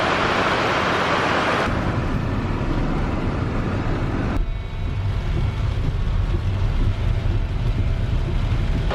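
Rain and waterfalls at Milford Sound, New Zealand, make a loud, constant rushing wash of falling water that fills the whole stretch, with a brief shift in texture partway through and no voices.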